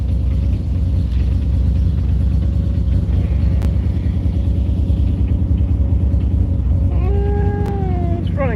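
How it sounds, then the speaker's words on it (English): A 1995 Mazda RX7, restarted after sitting through winter, idles roughly with a misfire: a loud, continuous low rumble with uneven pulses, ending in a brief rising whine. "Sounds like it's misfiring."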